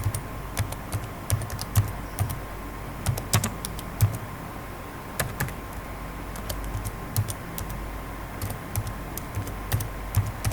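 Keys clatter on a computer keyboard in a steady run of typing, with irregular clusters of sharp clicks over a low background hum, fairly close and with no talking.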